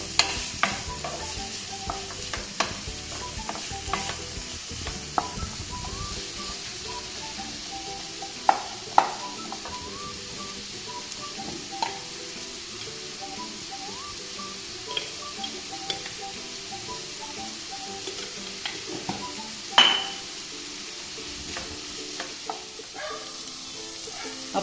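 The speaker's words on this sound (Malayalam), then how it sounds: "സവാളയും പച്ചമുളകും വെളിച്ചെണ്ണയിലിട്ട് കുറച്ച് ഉപ്പ് കൂടി ചേർത്ത് കുറച്ച് സിമ്മിലിട്ട്" Onions and green chillies sauté in coconut oil with a pinch of salt over low heat, a steady close sizzle broken by frequent sharp spatula scrapes and taps against the pan throughout.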